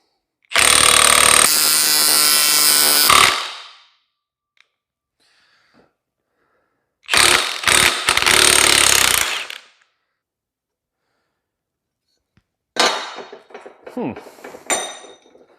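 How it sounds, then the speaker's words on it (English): An Astro Tools exhaust stretcher expanding 2 3/4 inch 16-gauge stainless steel pipe, loud close bursts of harsh pneumatic hammering and metallic rattling, three separate runs separated by silence. "Expanding 2 3/4 inch stainless steel 16 gauge, round 3."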